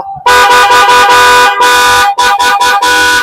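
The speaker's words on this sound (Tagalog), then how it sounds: "So gano'n kaganda yung busina dito mga kaibigan." Loud aftermarket vehicle horn fitted by a mini driving light and horn wiring shop, blasted in a long honk followed by several short, sharp bursts, close and dominant.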